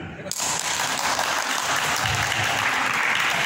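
Applause suddenly breaks out and holds steady, a dense wash of many hands clapping close by.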